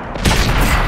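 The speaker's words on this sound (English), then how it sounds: "we're going to go ahead and put some shots into this guy" Tank cannon fire in World of Tanks on PS4, a heavy booming shot with a sharp onset followed by a sustained rumbling roar, loud and close with no talk.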